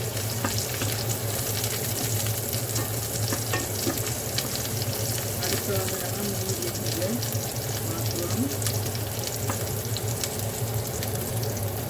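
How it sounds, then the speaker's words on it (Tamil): Onions, green chillies and curry leaves sizzling in hot oil for a Jaffna-style egg omelette curry, a steady close crackling fry that runs throughout with occasional stirring scrapes and no talk. "வெங்காயம், பச்சை மிளகாய் போடுவோம். கருவேப்பிலை போடுவோம். வதங்கட்டும்."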